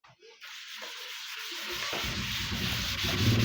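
An eraser rubbing across a board during a trigonometry lesson makes a steady, scratchy rubbing that starts faint and grows louder and coarser over several seconds, with no voice over it.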